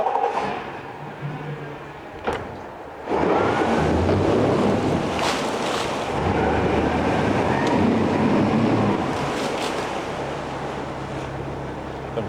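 A 2009 Yamaha 75hp four-stroke outboard motor with 20-inch shaft and remote controls cranks and catches about three seconds in, then holds a loud, steady running drone with broadband rumble and water-like wash through the rest.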